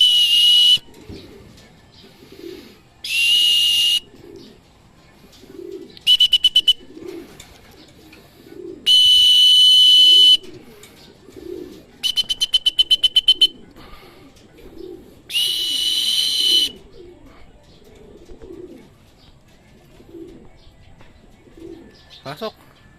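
Racing pigeons coo repeatedly at a loft on return from a 138 km training flight, soft low coos recurring every second or so, while several loud shrill whistle blasts cut in at intervals.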